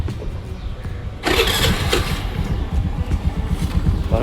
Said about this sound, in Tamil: வண்டி ஸ்டார்ட் பண்ணி காமிக்கிறேன்.